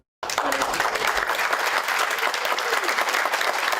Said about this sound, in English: Families and friends applaud and cheer the Project Search class of 2023.